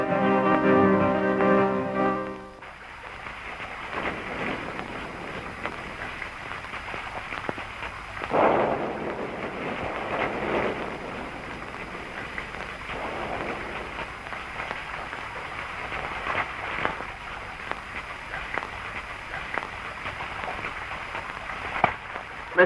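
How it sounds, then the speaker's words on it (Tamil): Heavy rain falls steadily outside in a film scene, a dense continuous hiss with a louder gust partway through, after brief music at the start. "வெளியில ஒரே மழை."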